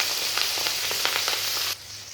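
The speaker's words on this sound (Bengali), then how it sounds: "মাছটা ভাজা হয়ে গেছে" Fish pieces frying in hot oil in a pan for a sour hogplum fish curry, giving a steady loud sizzle with small crackling pops that drops off sharply near the end.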